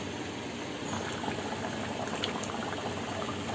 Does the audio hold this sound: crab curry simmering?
yes